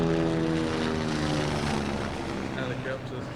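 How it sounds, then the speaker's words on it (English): Helicopters fly overhead, their rotors and engines making a loud, steady droning roar that fades slightly toward the end, with a voice speaking faintly underneath. "Helicopters."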